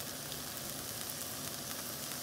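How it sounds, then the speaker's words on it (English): About five or six ounces of mushrooms sauté in a pan, giving a steady, faint, even sizzle with no voices. "now you're gonna saute, I don't know how many, about 5 or 6 ounces of mushrooms"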